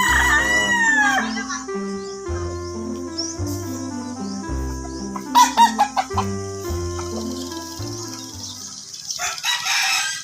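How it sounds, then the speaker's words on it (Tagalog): Fighting cocks crowing and clucking in a backyard, with a few crows and bursts of clucking over a loud backing of repeating electronic music tones. "Yan yun siyang mga pansabong na manok."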